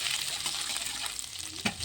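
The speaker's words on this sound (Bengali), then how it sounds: "এখন আদাটা দিয়ে দিলাম তেলের মধ্যে" Chopped ginger fries in hot oil in a kadai, a steady bright sizzle running throughout at close range, with a brief scrape of stirring near the end.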